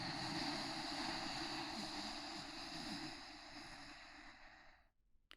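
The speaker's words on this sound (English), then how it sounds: "on the inhale, you're going to constrict the back of your throat so that it sounds like you're snoring in a way" An ujjayi yoga breath drawn in with a constricted throat gives a soft, snoring-like rushing hiss that holds steadily for about five seconds, close and quiet, before stopping abruptly.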